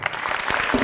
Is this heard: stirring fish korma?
no